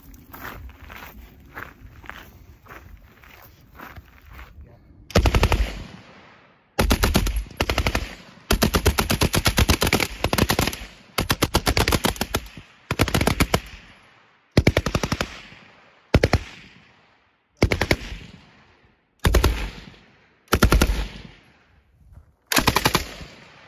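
A Vickers machine gun fires at an outdoor firing point, loud sustained bursts of rapid automatic fire separated by short silences, each burst cracking close and sharp after a faint mechanical lead-in.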